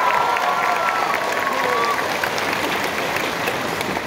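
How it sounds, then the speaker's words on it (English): A fan-convention audience at a Scream cast Q&A gives steady, dense applause with some crowd noise throughout, loud and sustained with no break. "Big round of applause for Kyla, everybody."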